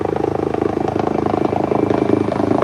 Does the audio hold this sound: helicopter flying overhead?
yes